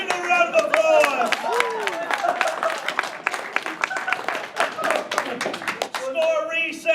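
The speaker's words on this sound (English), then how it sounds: "Guys, give him a round of applause." A crowd at the Furvana 2019 furry convention bursts into lively applause and cheering, many hands clapping close and loud for several seconds while voices whoop and talk through it.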